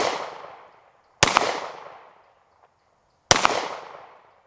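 Two sharp, loud 9mm pistol shots from a Sig Sauer P320 M17 fired one-handed outdoors, each a sudden crack followed by a long decaying echo, spaced about two seconds apart, with no talking.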